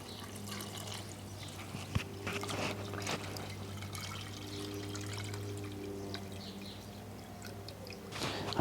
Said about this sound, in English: And simply filled it up with water.